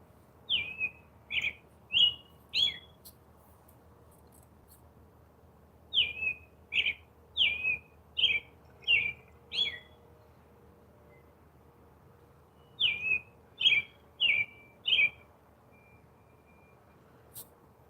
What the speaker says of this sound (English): we got birds whistling at me at freaking dark time